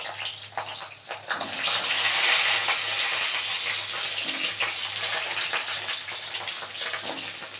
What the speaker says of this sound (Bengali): এবার ওই তেলের মধ্যে আমি দিয়ে দেবো হচ্ছে প্রথমে, কারণ গ্যাসটা কমানো আছে তো, প্রথমে আমি দিয়ে দিচ্ছি বেগুনগুলো